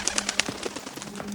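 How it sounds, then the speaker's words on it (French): A pigeon calls in a few quick, fairly close chirping bursts over a soft background. "un pigeon qui me suit maintenant partout"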